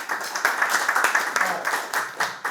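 Applause from a conference audience after a presentation, a steady patter of many hands clapping at close range, filling the short stretch without pause.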